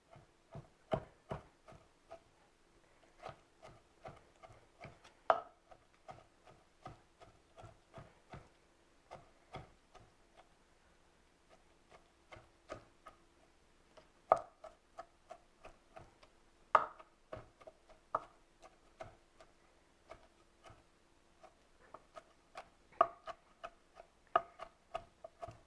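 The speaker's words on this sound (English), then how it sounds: "use this knife to chop like this" Knife chopping raw shrimp on a cutting board: quiet, close, sharp taps in irregular bursts with short pauses, steady for the whole stretch without speech.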